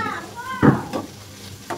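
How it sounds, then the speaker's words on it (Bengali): Whole garlic cloves hit hot oil in a pan, giving a short burst of sizzling and stirring that flares up, then settles into a quieter crackle with a few more bright pops, and no talking. "সম্পূর্ণ রসুনটা দিয়ে দিব। এটি দিয়ে একটু গরম করব, হালকা বোনা হবে"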